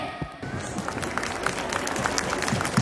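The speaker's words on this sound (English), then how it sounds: "Give a round of applause to him." Audience clapping builds after a brief pause, a steady patter of many hands at moderate loudness.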